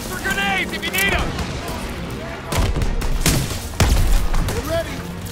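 Gunfire crackles through a Stronghold sniper mission battle, scattered loud shots and bursts with heavy booms, mixed with shouted voices and other talk throughout.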